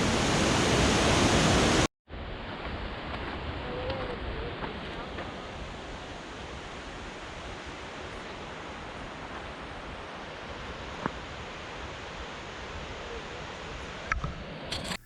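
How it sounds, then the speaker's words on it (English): A waterfall on Bishop Creek roars steadily, a dense constant rush of falling water heard up close, with no voices over it. "This is the first falls on Bishop Creek."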